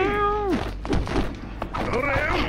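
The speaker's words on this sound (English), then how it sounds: "The goddamn cat is annoying." A cat meows loudly in a drawn-out, falling cry, then again near the end, over a noisy room with thumps and people talking nearby during a GameCube Naruto netplay session.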